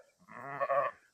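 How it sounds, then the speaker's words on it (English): Ewes bleating, a single short, close, wavering baa rising and fading in about a second, with no other sound around it. "Now there's the sheep. Just brought them back in."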